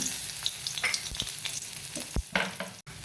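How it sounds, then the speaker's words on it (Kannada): Two to three garlic cloves frying in hot oil in a pan for a coastal Karnataka chickpea saaru, giving a steady close sizzle broken by a few sharp stirring scrapes and pops. "ಒಂದು 2-3 ಬೆಳ್ಳುಳ್ಳಿಯನ್ನು ಇದರಲ್ಲಿ ಹಾಕೊಳ್ಳೋಣ."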